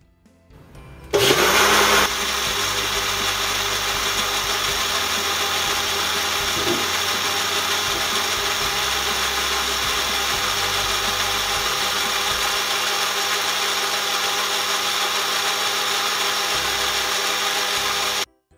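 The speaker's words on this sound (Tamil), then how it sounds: "இப்போ இது எல்லாத்தையும் சேர்த்து பிளெண்டரில் பார்த்திங்கன்னா ஒரு 2 நிமிஷம் வரையும் அடித்து எடுத்துக்கலாம்." An electric blender whirs through spiced masala buttermilk, starting abruptly and running as a loud, steady motor whine for about seventeen seconds before cutting off, close by and without speech.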